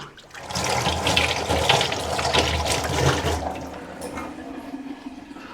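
Country chicken being washed under running tap water, a steady close splashing stream that swells and then tapers off, heard alone.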